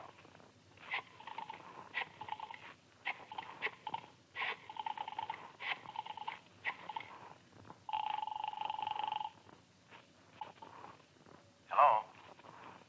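Old-time radio detective drama: a telephone is dialed in a rapid series of short clicking pulses, followed by a steady, loud ring tone and a brief burst at the end, with no talk over it.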